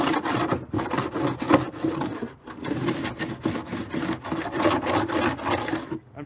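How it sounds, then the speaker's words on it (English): An old rusty Stanley hand plane shaves along a wooden beam, repeated rasping strokes in a steady back-and-forth rhythm, close and moderately loud, with no talk. "I've got an old rusty Stanley planer here."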